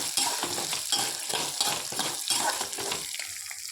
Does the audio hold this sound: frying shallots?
yes